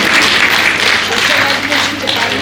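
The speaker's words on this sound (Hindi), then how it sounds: "एक बार जोरदार तालियों से मैम का अभिनंदन करते हैं, स्वागत करते हैं" Audience applause at an International Women's Day event held by a union at NDMC, a dense, steady clatter of many hands lasting the whole moment, loud and close, with faint voices mixed in.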